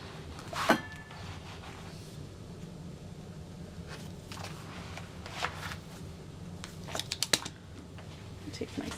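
Scissors or a cutter slice through vinyl for a sewing bag project, quiet close snips and crinkly rustles scattered among soft handling noises, faint and intermittent.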